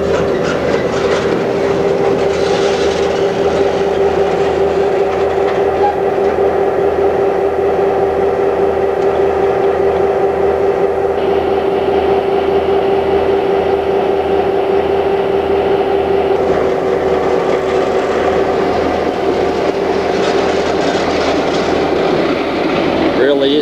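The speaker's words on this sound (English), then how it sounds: "big train leaving Charleville" A big freight train pulls out of Charleville on a branchline, a loud steady diesel drone with a sustained horn-like tone and rolling clatter of wagons, close and continuous throughout.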